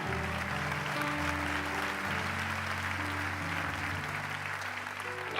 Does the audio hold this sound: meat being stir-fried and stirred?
no